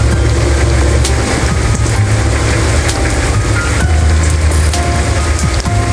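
Steady rain patters and hisses around a rider moving through the streets of Juba, loud and continuous, with a low engine rumble underneath.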